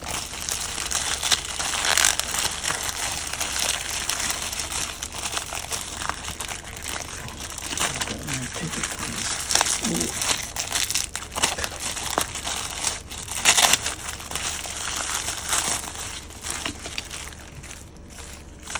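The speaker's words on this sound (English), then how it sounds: "open up the wrapping paper and take this out" Wrapping paper around a cup of natto crinkles and crumples as it is opened and pulled away, a steady close rustle with sharper crackling bursts, and no talking over it.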